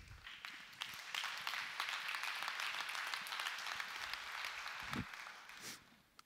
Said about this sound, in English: Appreciate that you're clapping for me